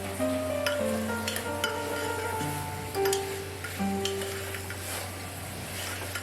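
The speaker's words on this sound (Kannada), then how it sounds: "ಈ ಮೊಳಕೆ ಕಾಳು ಒಂದು 4 ರಿಂದ 5 ನಿಮಿಷ ಸಣ್ಣ ಉರಿಯಲ್ಲಿ ನಾವು ಇದೇ ಥರ ಫ್ರೈ ಮಾಡ್ಕೋಬೇಕು" Mixed sprouts fry in a pan over a low flame, a steady close sizzle broken by occasional stirring scrapes and light clinks of the utensil.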